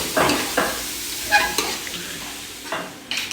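Chicken bhuna-frying in masala, with a soft continuous sizzle broken by several scraping stirs of a spoon against the pan, close and moderately loud with no talking.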